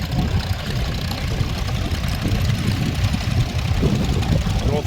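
A garden tractor engine runs steadily at a steam rally, a continuous low chugging idle with a slightly knocking, uneven beat, fairly close and without talk over it.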